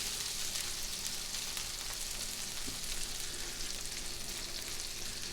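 Garlic frying in a pan over heat turned down low, a dense, even crackling sizzle that holds steady throughout with no talking.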